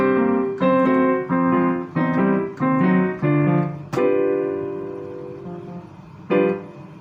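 Solo piano playing a chromatic turnaround in C, chords stepping downward, then a long sustained chord that rings and fades before a final struck chord; clear and close.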